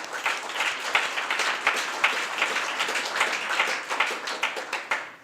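An audience at a New York real-estate tech demo day claps together for everyone who helped, a dense, steady round of applause with distinct individual claps standing out, no talking over it.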